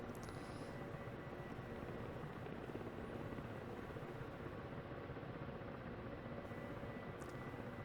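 Ka-50 coaxial helicopter in the DCS flight simulator, with a steady, dense rotor and engine roar that holds at a constant level throughout and has no voices over it.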